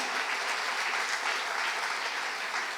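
Sustained applause from a church congregation fills the space, steady and dense throughout with no pauses and no speech over it.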